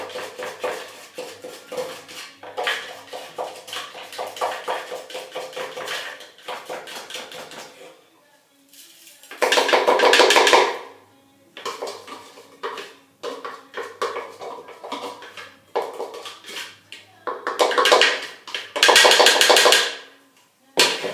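A scraper makes repeated scraping and clattering against a hard bowl of fine, sticky apple flour, in quick irregular strokes, with louder bursts of scraping now and then and a voice speaking in between.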